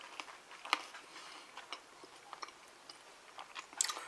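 Quiet, close chewing of a crunchy cheese ball with bell peppers and taco seasoning, with irregular crisp bites and crackles scattered through the moment and no talk.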